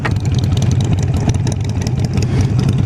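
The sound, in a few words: motorcycle engine during a bike swap, 48 vs 883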